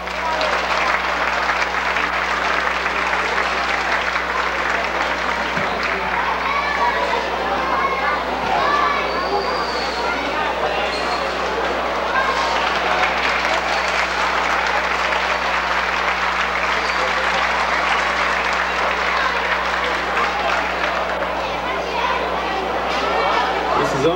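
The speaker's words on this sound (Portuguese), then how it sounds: "Palmas, pessoal!" Sustained applause from an audience at a folk dance company's show at a resort, dense and steady throughout, with children's voices and chatter mixed in and a low constant hum underneath.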